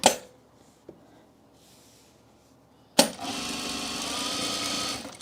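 An industrial sewing machine starts after a couple of sharp clicks and runs in a steady, fast stitching whir for a couple of seconds, loud and close, with no voices over it.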